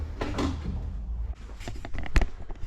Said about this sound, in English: I love my pocket door.